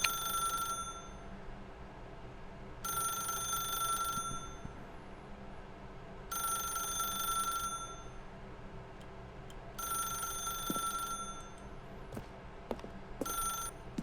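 A bell-style telephone rings in The Stanley Parable: four long trilling rings separated by pauses of about two seconds, clear and close, followed by a few small clicks near the end.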